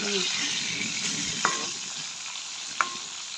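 Dried fish (karuvadu) fries in a pan with a steady close sizzle, broken twice by brief scrapes of a utensil stirring.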